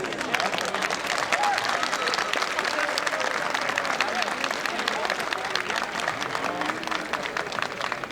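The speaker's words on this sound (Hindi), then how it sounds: "और वाह नहीं तो कम से कम तालियां तो बनती थी।" An audience at the Lokrang 2021 cultural performance event bursts into dense, steady applause that continues throughout, with voices heard alongside the clapping.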